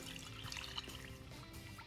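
Fireball cinnamon whiskey, a full cup, poured into a mixture for gummies, giving a steady soft liquid trickle and splash close by for about two seconds, with faint kitchen noise and no talk.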